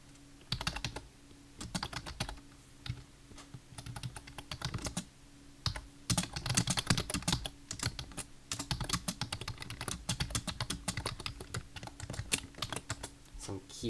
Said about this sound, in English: Some keyboard ASMR today,